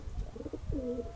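A stock pigeon or dove kept for a Christmas raffle coos softly up close, a few low murmuring notes followed by a longer rolling coo.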